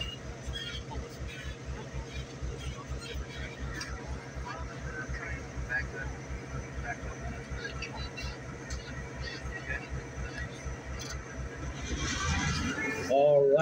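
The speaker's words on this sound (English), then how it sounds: "So once again, we're moving our turntable and realigning it to track number 2." Museum railway turntable rotating to line up with a track, a steady low mechanical rumble with a rhythmic pulsing beat, a louder clank and squeal at the end, and faint voices of onlookers.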